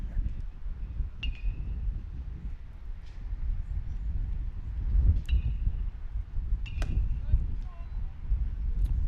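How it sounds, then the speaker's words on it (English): Wind gusting across an outdoor baseball field during a game, a steady low rumble and buffeting against the microphone throughout, with a few faint distant calls and clicks above it. "Once again, you can hear that it's pretty windy right now."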